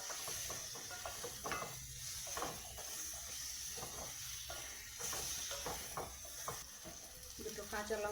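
Potatoes and pointed gourd frying in oil in a pan, a steady hiss and sizzle with intermittent scraping and stirring clatter, close and continuous.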